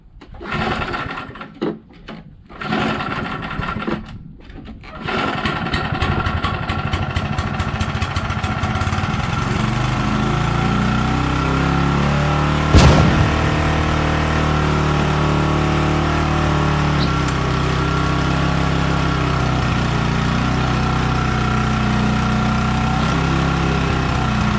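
A Tecumseh 5HP engine on a Troy-Bilt wood chipper vacuum is pulled over a few times, sputters, then catches and settles into a loud, steady close-up running drone with one brief clank partway through.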